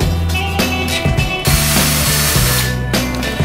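An electric cleaning brush with a built-in light runs continuously up close, its motor whirring loudly with shifting pitch as it works.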